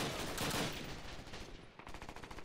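Gunfire in the World War II shooter game Call of Duty: United Offensive, a dense continuous barrage of automatic weapon fire, loud and close, with rapid repeated shots toward the end.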